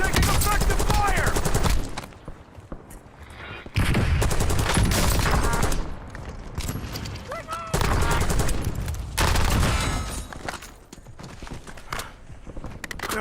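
Bursts of automatic gunfire in the first-person shooter Warzone, loud and sustained, broken into several long volleys with brief quieter gaps between them and faint radio-style game voices in the mix.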